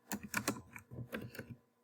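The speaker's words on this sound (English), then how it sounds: "So I type Usain" Typing on a computer keyboard: a quick, soft run of keystroke clicks in two short bursts with a brief pause between, close and fairly quiet, no speech.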